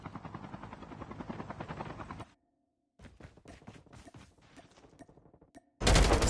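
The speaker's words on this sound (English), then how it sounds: "Helicopter coming in." A helicopter closing in during a competitive online shooter match, a steady rotor drone under bursts of gunfire, briefly cutting out before a dense clattering return and a sudden loud roar at the end.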